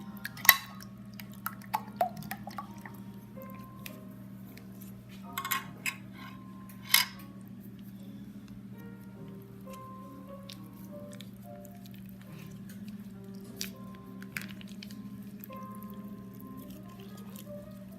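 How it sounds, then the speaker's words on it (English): Grated cassava drops into a mixing bowl with a few soft, wet squishes and light clinks early on, then quieter scraping follows over a steady background hum, all faint and close. "Next, we're going to put the cassava in."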